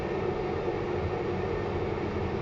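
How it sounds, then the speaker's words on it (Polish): A freight train rolls past near the steelworks in Kraków's Nowa Huta, a steady broadband rumble holding constant and fairly loud throughout. "tu jedzie właśnie pociąg towarowy w kierunku grupy B"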